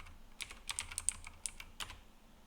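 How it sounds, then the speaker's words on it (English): A passphrase is typed on a computer keyboard in a quiet room: a short burst of soft, close keystroke clicks in an uneven rhythm that lasts about two seconds. "So I'm actually going to type in the passphrase."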